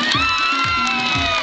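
A lively audience cheers and shouts for a mother, with children's high voices and whoops over a steady crowd roar, punctuated by a few low rhythmic chant-like bursts.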